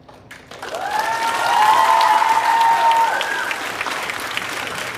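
An audience at a church youth conference breaks into applause that swells to a full, steady clapping and then gradually thins out, with a faint whistle or cheer mixed in.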